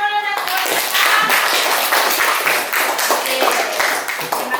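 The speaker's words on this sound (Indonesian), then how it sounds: "Beri tepuk tangan dulu dan tepuk tangan." Classroom clapping from a group of students in an Indonesian lesson, a brisk run of overlapping hand claps filling the room, fairly loud and close, with some voices mixed in.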